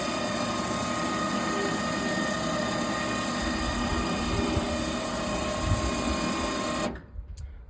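The power winch on a Rampage power lift loading ramp spools in its cable with a steady whirring electric motor hum close by, then stops abruptly near the end, leaving a few faint clicks.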